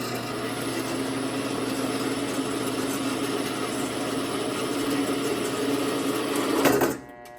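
A power drill fitted with a DeWalt bit grinds through a 13-pound steel brake rotor hung on rope, giving a loud, steady whine for several seconds before the bit binds and the sound cuts off abruptly.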